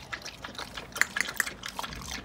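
A dog goes into a backyard swimming pool, setting off a few close, sharp splashes and sloshing water over a faint watery background.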